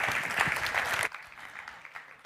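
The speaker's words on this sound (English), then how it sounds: "Big round of applause" Conference attendees give a round of applause after a session, a loud burst of clapping that stops abruptly about a second in, leaving faint scattered claps and room murmur.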